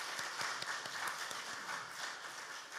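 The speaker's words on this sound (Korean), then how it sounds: "우리 서로 격려하면서 박수 한번 하겠습니다." A church congregation gives a round of applause during a Sunday morning service, dense continuous clapping at moderate level lasting about three seconds, with no voices over it.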